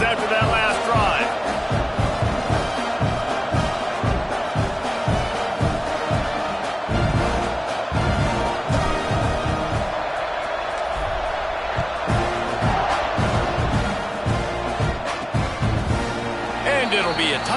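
Dense roar of a college football stadium crowd during a Vanderbilt kickoff, loud and continuous with claps, thuds and bursts of cheering, mixed with talk.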